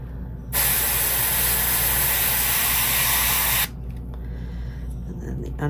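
Airbrush paint hissing steadily for about three seconds as it coats a threadfin fishing lure in a dying threadfin pattern, loud and close, then cutting off to quieter room sound.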